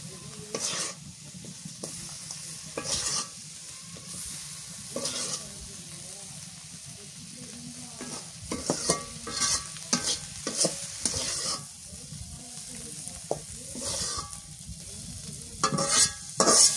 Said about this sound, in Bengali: এই তেল দিয়ে মাছ ভাজলাম, এই তেল দিয়ে আবার মাছ রান্না করি।